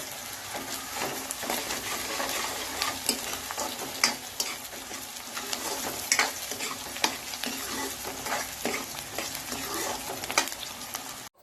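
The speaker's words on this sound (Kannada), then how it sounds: "ಈರುಳ್ಳಿಯನ್ನು ಒಳ್ಳೆ ರೀತಿಯಾಗಿ ಮಿಕ್ಸ್ ಮಾಡ್ತಾನೆ ಇರಬೇಕು" Onions and green chillies sizzle in hot oil for a fish curry while a spoon stirs them, giving steady close frying hiss with frequent scraping clicks and no talking.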